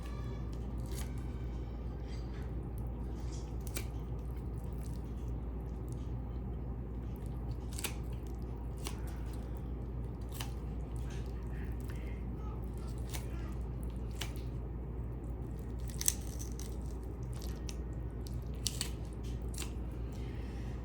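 A knife cutting through raw chicken wings at the joint, heard as soft, wet squishing and scattered small clicks and snaps over a constant low background rumble.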